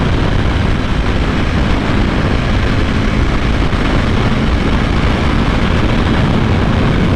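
Wind rushes hard past a moving motorcycle in a loud, unbroken roar that buries the engine sound for the whole stretch, with no talking.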